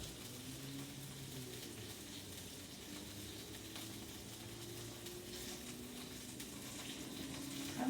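Food sizzling on a stovetop burner during a Valentine's Day dinner, a steady low, even hiss that carries on unbroken throughout.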